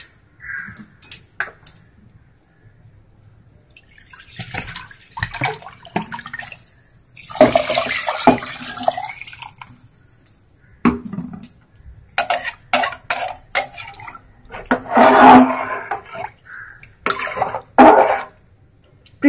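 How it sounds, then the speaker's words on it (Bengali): Water poured into a pressure-cooker pot of moong and chana dal khichdi in a home kitchen, coming in several loud splashing bursts separated by quiet gaps, with occasional clinks of metal. "আর একটু জল দেব।"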